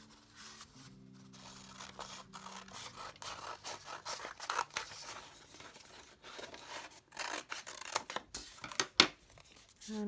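Scissors snip through paper cut from a traced rectangle for a landscape collage, a run of short, soft crisp cuts and rustles close by, with faint handling noise between them and no talk.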